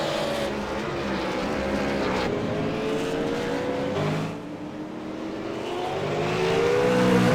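Ford V8 Supercars race cars battling on track at Okayama, a continuous loud engine roar with harmonic whine rising and falling as they accelerate and pass, steady and close throughout.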